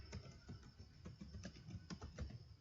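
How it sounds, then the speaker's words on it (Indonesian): A command is typed on a computer keyboard, a quick, irregular run of soft, close key clicks, quiet and with no voices. "Kita ketikkan"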